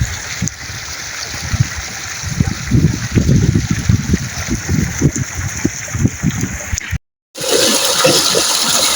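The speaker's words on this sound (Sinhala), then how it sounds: "ලස්සන වතුර බහගෙන යනවා." Water rushes loudly and steadily through an irrigation channel feeding paddy fields in Sri Lanka, a close, churning flow with a brief dropout near seven seconds before it resumes.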